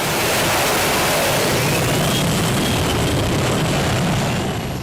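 A twin-turbine modified pulling tractor with two Isotov TV3 turbines makes about 4,000 horsepower at a European tractor pull in Bryne. Its loud, dense turbine roar and whine fill the clip without a break.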